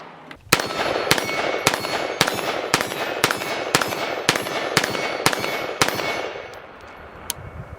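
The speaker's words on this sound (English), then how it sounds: "And we're shooting just some 55 grain full metal jacket" A Bersa BAR-15, a mil-spec AR-15 rifle, fires 55 grain full metal jacket rounds at the range, about eleven sharp, loud shots in a steady semi-auto rhythm roughly half a second apart, with ringing echo between them.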